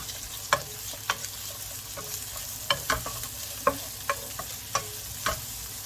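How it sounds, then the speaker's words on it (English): Peppers sizzle steadily in a hot pan while a utensil scrapes and stirs in sharp, irregular clacks. "So just stir it up, get that nice sizzle going."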